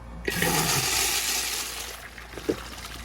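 A Universal Rundle urinal flushes with a sudden loud rush of water that holds steady, then gradually thins toward a trickle, with a couple of small clunks near the end.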